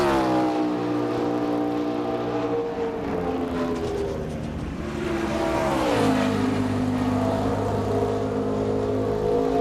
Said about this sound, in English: That gives the engine kind of a flat sound